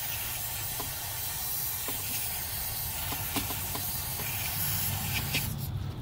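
Aerosol cleaner hisses steadily onto an alternator plug in one long continuous spray, loud and close, stopping abruptly near the end.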